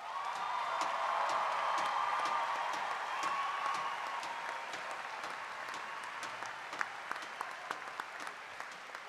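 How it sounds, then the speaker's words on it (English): Graduates applauded at a university spring commencement ceremony: a large crowd claps steadily and densely, slowly thinning toward the end into scattered, distinct claps. "let's give our graduates one final round of applause"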